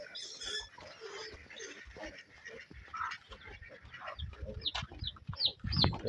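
Chicks on a small Filipino farm with goats nearby, giving brief high peeps scattered through steady barnyard noise, with some clucking and low thumps growing louder toward the end.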